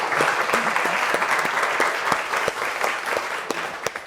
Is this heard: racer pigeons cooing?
no